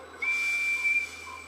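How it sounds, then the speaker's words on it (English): A single clear, sustained steam whistle blast from Gordon the engine in a Thomas & Friends train game, a pure high tone held for about a second over a faint hiss, no talking. "Here comes my whistle."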